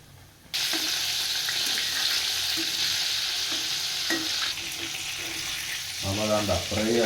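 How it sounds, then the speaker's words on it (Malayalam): Prawns fry in hot oil for a broasted prawn dish, giving a steady loud sizzle that starts abruptly and continues throughout, with faint utensil taps and a brief voice near the end. "അപ്പോൾ നമുക്ക് ഓരോന്നോരോന്നായിട്ട് പൊരിച്ചെടുക്കാം"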